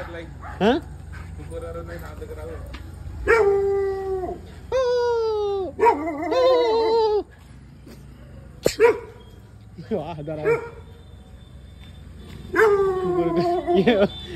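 A dog barks, yips and whimpers in repeated bursts, close and loud, with a few quick bursts early on and longer whining runs later, while someone talks excitedly between and over the calls.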